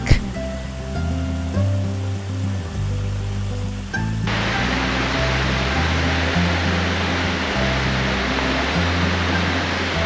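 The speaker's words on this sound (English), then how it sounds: "you'll start to hear the gentle trickle of Grassi Falls" The modest Grassi Falls in the Canadian Rockies' Kananaskis Country gives a steady, soft wash of falling water that fills the scene evenly, with low tonal hum in the background.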